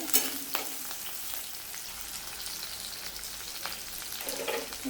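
Garlic, green chilli and curry leaves sauté in hot oil, a steady soft frying hiss with a few brief stirring scrapes, close and fairly quiet with no voices.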